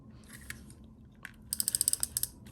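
Scissors cut through paper for a junk journal, a quick run of about nine crisp, rhythmic snips close up after a quieter lead-in.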